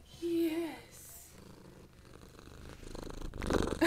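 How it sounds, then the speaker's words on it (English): A shelter cat purrs close up with a soft steady rumble, while people talk over it in gentle, cooing voices and the purring swells louder toward the end. "This is a sweet cat."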